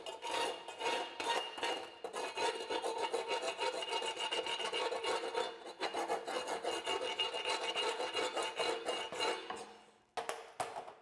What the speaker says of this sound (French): je vais enlever le laitier avec le marteau à piquer